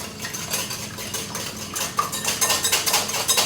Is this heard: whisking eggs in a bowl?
yes